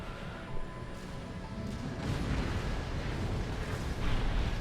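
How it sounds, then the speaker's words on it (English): Grenade launcher fire in the Armored Core VI video game, a low rumbling blast that builds and keeps roaring with a heavy, explosive body, fairly quiet overall. "What the game calls a grenade launcher is."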